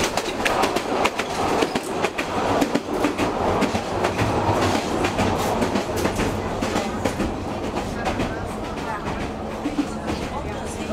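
A small narrow gauge train in Bulgaria rattles along the rails with rapid clickety-clack wheel beats and a shaky, rumbling carriage, loud and close throughout.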